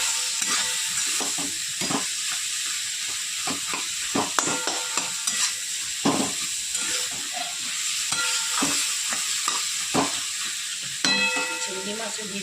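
Ground coriander and turmeric fry with green chillies in a hot pan, a continuous sizzle broken by repeated scrapes and knocks of a spoon stirring the spices.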